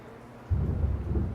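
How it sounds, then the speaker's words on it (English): Thunder from a heavy downpour outside starts abruptly as a deep, loud, sustained rumble, with the pouring rain beneath it. "It ain't raining, it's pouring is what it is out there."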